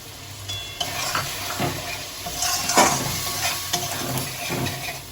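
Beaten yogurt goes into sizzling chana masala spices in a pan over a low flame, a dense close hiss and bubbling with several stirring scrapes, no voices.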